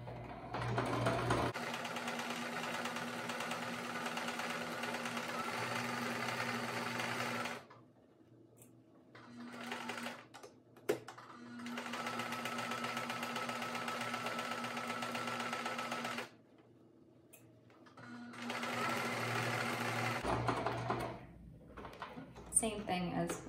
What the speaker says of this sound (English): We're going to go to about 1/4 inch away from the edge, lift up our foot, put it back down, and continue sewing.